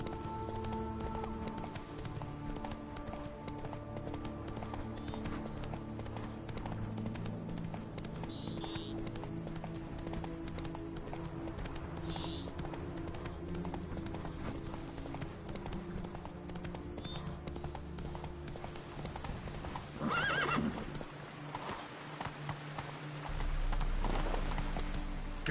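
Roach the horse gallops in The Witcher 3: Blood and Wine, rhythmic clip-clop hoofbeats carried steadily over quiet game music and ambience, with a brief neigh-like flourish; faint and even throughout.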